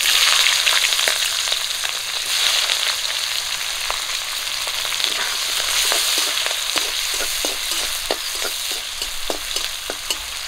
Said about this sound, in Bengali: পেঁয়াজ আর কাঁচা লঙ্কা একটু লাল করে ভেজে নেব।